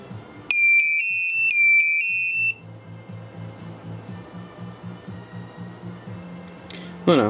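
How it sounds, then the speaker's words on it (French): A buzzer on a Picaxe 8M2+ battery management system sounds two short, loud, high electronic tones in quick succession, then cuts off, leaving a low steady hum with faint ticking. "Et c'est pour ça que le buzzer ne sonne pas très longtemps."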